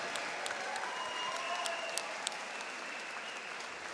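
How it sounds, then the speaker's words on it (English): A crowd applauds steadily for two boxers after a five-round bout at the Broad Street Ballroom, with dense, sustained clapping filling the hall at a moderate distance and no talk over it. "let's get a nice round of applause out here for both of these fighters"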